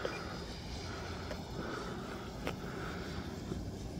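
F-16 replica RC jet with a 90mm electric ducted fan on 8S power, flying at half throttle, gives a steady windy whooshing roar with a faint high whine. The noise holds level throughout with only slight swells.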